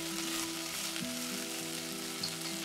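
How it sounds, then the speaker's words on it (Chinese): Pan-fried chicken legs tossed with spices in a pan over medium-low heat for Korean Andong braised chicken give a steady, bright sizzle, with occasional stirring scrapes and no talk. "接着放入煎好的鸡腿和新香料一起拌炒"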